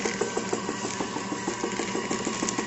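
A tortilla machine running as its cutting wire is tightened, giving a steady mechanical hum with a regular rapid rubbing, scraping rhythm throughout.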